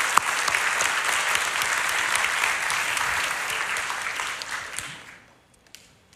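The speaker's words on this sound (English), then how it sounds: "Let's give them a round of applause." A church congregation at a Sunday service gives a round of applause, a full, even burst of many hands that holds steady for several seconds before tapering off quickly.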